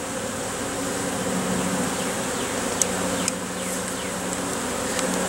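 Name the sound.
agitated honeybees buzzing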